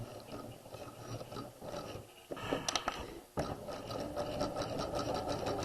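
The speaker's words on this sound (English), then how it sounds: "To sew the side seams, we're going to sew 1/4 of an inch seam allowance." Domestic sewing machine stitching the side seams of a garment with an elastic waistline, quarter-inch seam allowance, steady close whirring run that briefly halts and restarts midway.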